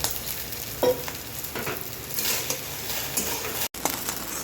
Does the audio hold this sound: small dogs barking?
no